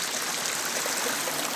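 Flowing water from a stream at the Khlong Narai waterfall in Chanthaburi, Thailand, during the low-water January season. A steady, close, full rush of water fills the clip on its own.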